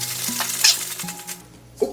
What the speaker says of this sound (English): take about 2 strips of bacon chopped up and we're gonna add them to a little pan here